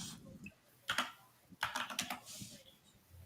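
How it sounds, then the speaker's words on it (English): Quick bursts of typing on a computer keyboard at a trading desk, clustered clicks with brief gaps over a low room hum, fairly quiet and close. "Ooh, what am I typing?"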